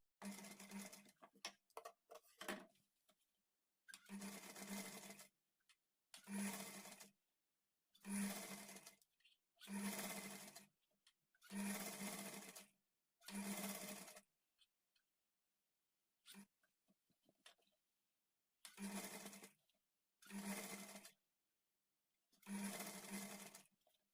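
A sewing machine stitching piping for tailoring runs in repeated bursts of about one to two seconds each, roughly ten runs separated by short pauses, close and clear with no talking.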